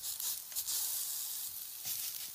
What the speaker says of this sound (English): She's sizzling her hair, bro.